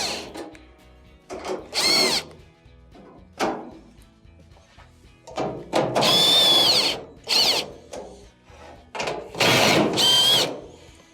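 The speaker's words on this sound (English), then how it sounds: "Next, you have a couple of 1/4" screws on each side that have to be taken off." A power driver removes quarter-inch screws from a Maytag dryer during repair: several loud whirring bursts, each a second or two long, separated by short pauses, close up with no talking.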